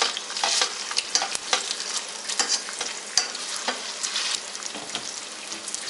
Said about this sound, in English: And just let them sizzle away like that.